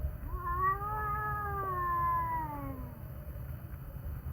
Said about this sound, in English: Let me see what this cat is responding to.